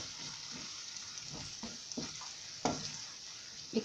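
Spices and dried chillies are stirred in a hot pan for an Andhra-style bitter gourd dish. A soft continuous sizzle runs under repeated scraping strokes of a spoon, with a couple of louder knocks near the end.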